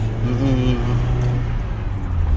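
A car engine hums loudly and close with a brief rising rev near the start, then settles into a steady drone for the rest of the clip.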